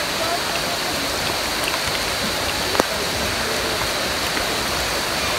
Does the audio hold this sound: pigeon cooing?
no